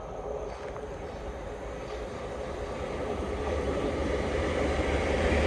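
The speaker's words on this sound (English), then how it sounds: "Soon to pass through now will be a Thameslink service going from Brighton to Bedford." A Thameslink service from Brighton to Bedford rushes through South Croydon station on the Brighton Main Line, a broad steady roar of wheels and rails that swells gradually louder as the train approaches.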